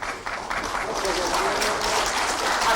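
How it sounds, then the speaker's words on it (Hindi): Audience applause at a book launch for 'The People's Leader', a biography of a politician: a dense, steady clatter of clapping that runs throughout, with a voice talking over it. "आपके तालियों की जरूरत कम नहीं होनी चाहिए।"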